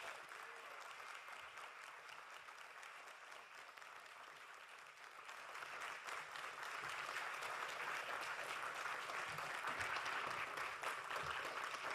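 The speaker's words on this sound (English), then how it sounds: "give her a warm CVI round of applause" Steady, dense applause from a launch-event audience welcoming a speaker, rising slightly in intensity midway and continuing at an even, sustained level with no talking.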